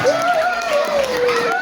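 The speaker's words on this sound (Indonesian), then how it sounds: "Tepuk tangan yang meriah untuk para juarawan-juarawati" A crowd applauds prize-winning students at a school prize-giving night in Sungi Kulon, Pasuruan. The clapping is a steady dense wash throughout, with a sustained tone running over it.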